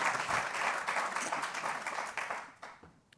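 An audience at a White House summit on chronic absenteeism claps together in a dense, steady burst that gradually thins and fades toward the end, with a few scattered final claps.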